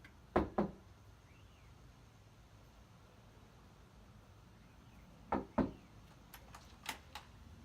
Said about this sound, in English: Let me knock.